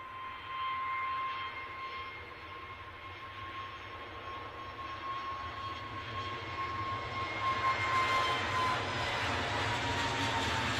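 An EasyJet airliner takes off at Edinburgh airport, a distant, steady jet engine roar that slowly swells and grows brighter over several seconds, heard alone outdoors without talk.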